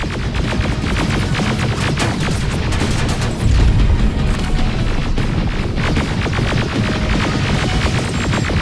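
Dense, loud battle din from the Terminator Resistance video game, continuous gunfire and rumbling blasts with a heavier boom from a grenade explosion near the middle, all blended into a sustained roar.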